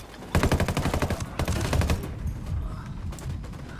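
A minigun in the shooter Ghost Recon Wildlands fires long, rapid, rattling bursts, loud and close, with a brief pause between them before the noise fades into a continuing battle rumble.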